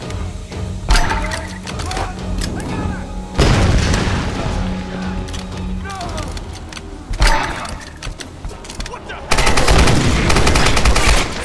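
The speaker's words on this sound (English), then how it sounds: "It's a nice gun and it shoots pretty nice" Gunfire from a weapon in the video game Tomb Raider, loud bursts of shots mixed with booming impacts and game effects, with a sustained heavy stretch of firing near the end.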